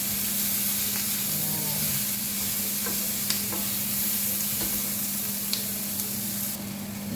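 Sliced yellow corn fries and is stirred in a pan over a very high flame, a steady loud sizzle with scraping stirs throughout and a brief word spoken over it.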